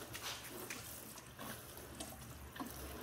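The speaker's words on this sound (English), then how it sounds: "Then I'll take a watering can, and I'll just activate it a little around it." Water pours steadily from a watering can onto a wheatgrass pad grown for worms, a soft continuous splashing trickle, close and fairly quiet, with no talking.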